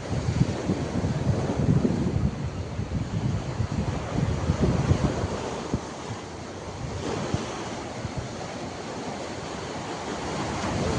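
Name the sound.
sea waves and wind on the Jeddah seafront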